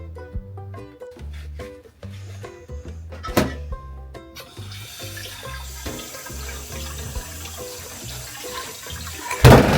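Running water splashes steadily as black bean dyed fabric is rinsed under it, a continuous wash that starts partway through and follows quieter, tonal sounds.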